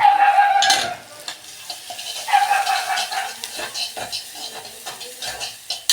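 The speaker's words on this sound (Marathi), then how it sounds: "तेलात खोबरं कोथिंबीर आलं लसूण तो जो मसाला बारीक केला आहे त्याला तेला बघा चरचरी भाजून घ्यायचं" A ground masala of coconut, coriander, ginger and garlic sizzles loudly in hot oil, with a strong hiss at first, then softer crackling and stirring scrapes in the pan as the egg curry base cooks.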